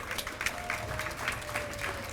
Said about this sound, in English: Let's keep that applause going for Zenshin Daiko.